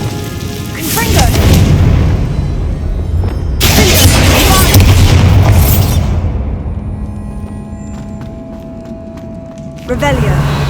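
Confringo blasting spell in Hogwarts Legacy, heavy booming explosions with rumbling debris, loud and close, two big blasts followed by quieter crackling, mixed with other game effects.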